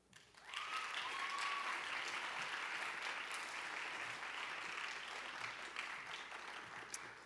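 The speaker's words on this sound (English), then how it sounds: "Yeah, we can clap again for them." An awards ceremony audience for high school fine arts bursts into sustained applause, loud and steady for several seconds after a brief start, with a few cheers rising over the clapping.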